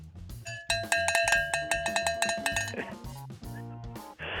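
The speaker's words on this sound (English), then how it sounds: "That cowbell sound right there." A cowbell clanks in a bright, rhythmic pattern, struck repeatedly and ringing close and loud over a low pulsing beat.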